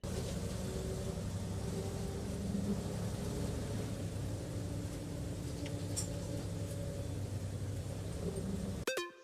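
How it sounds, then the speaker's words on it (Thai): A bus engine rumbles steadily at a moderate distance for several seconds, an even, noisy drone with no talk, cutting off abruptly at the end. "เสียงที่ได้ยินเมื่อกี้นี้นะครับผมเป็นเสียงของรถบัส"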